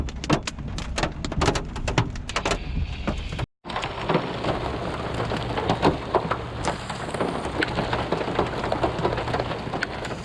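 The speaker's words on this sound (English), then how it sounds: "Look at the hail, Olivia." Hail and heavy rain pelt an Airstream RV at a campsite in the Tetons, a dense, steady patter of hard impacts with a few louder knocks and a brief cutout partway through.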